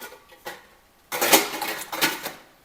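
Metal pots and vessels clatter and clank as cooker biryani is tipped into another vessel, a few quiet knocks followed by a louder burst of scraping, banging metal, close up with no talk.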